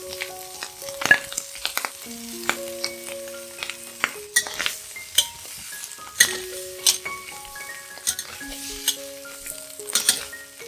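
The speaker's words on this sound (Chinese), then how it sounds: "然后倒入四川菜， 再倒入马铃薯，炒一炒。" Vegetables and potatoes sizzle as they are stir-fried in a pan, with a steady crackle broken by frequent spatula scrapes and light clinks against the pan, recurring irregularly throughout.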